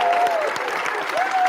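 An audience at a Queensland press event applauds in a steady, fairly close wash of clapping, while a voice talks over it at the end.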